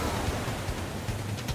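Large ocean waves break in a rough surf zone during a rip-current rescue, giving a steady, loud broadband rush with low rumbling surges and no voices.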